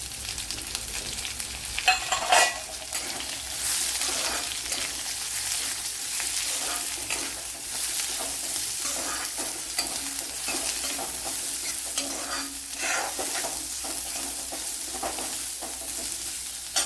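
A large sliced onion sautéing in a pan of spices for a carrot curd dish, with continuous sizzling and repeated scraping stirs of a spoon, louder bursts near the start and again later.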